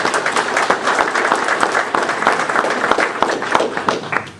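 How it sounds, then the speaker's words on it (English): Sustained applause from the audience at a North Huron all-candidates meeting, a dense steady patter of many hands clapping close by, holding for the whole stretch with no voices on top. "And I think a round of applause again for all the speakers."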